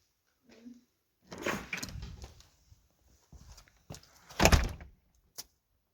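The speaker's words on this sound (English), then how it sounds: "the sound of the door is making him gobble." A door opens at a home, with a short creak and rattle followed by a louder thunk near the end, heard close with brief quiet gaps between the sounds.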